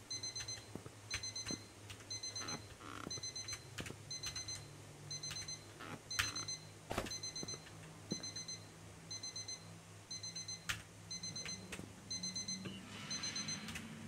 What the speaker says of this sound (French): T'es stressé parce qu'il y a un bip.